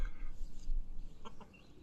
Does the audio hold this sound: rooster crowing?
yes